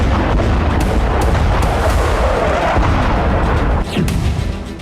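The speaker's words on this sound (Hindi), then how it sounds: "तेल अवीव में जो 2 धमाके सुने गए वो हमास की मिसाइल को तबाह करने वाले धमाके थे।" Loud, rumbling blasts from Hamas missiles being intercepted over Tel Aviv roll continuously in a dense wash of booming noise that fades slightly toward the end, with no speech.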